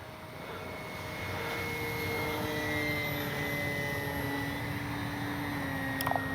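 An FMS CJ-6 V2 radio-controlled airplane comes in to land with gear and flaps down, its motor a steady, continuous drone at moderate distance that swells slightly midway, with a brief click near the end.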